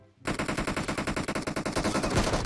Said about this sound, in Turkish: Bak bak arkadan sıkıyorlar